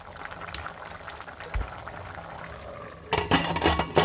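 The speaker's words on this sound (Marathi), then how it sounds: "छान उकळी आली" Masala corn pulao mixture bubbling at a boil in a pressure cooker, a soft continuous simmering burble that swells louder with clustered bubbling bursts toward the end.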